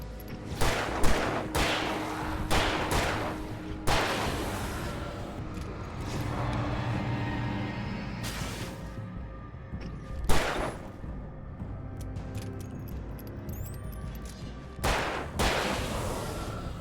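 Gunshots in the video game Alan Wake Remastered: repeated sharp reports in clusters, some rapid and some spaced several seconds apart, over a low rumbling game ambience with no one speaking.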